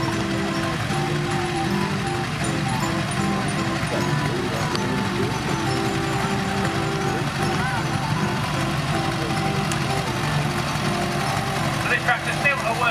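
David Brown VAK1A tractor with a 4-cylinder, 3.3 litre diesel engine idling at a tractor fest, a steady low rumble running throughout under someone talking nearby.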